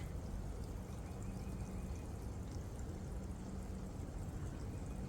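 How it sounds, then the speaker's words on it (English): A steady, soft rush of flowing water, like a small creek running continuously, faint and even with no voices. "there's just this little creek"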